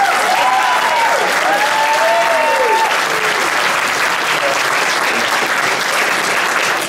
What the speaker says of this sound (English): I want you to clap for him